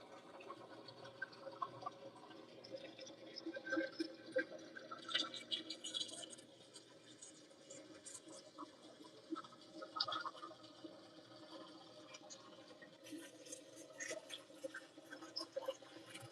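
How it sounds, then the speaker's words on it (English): A GE GTW220ACW0WW top-loading washer drains, giving a steady watery rush with gurgles and drips that rises and falls at moderate loudness throughout, with no talking. "That thing actually drains kind of quick for a top loader"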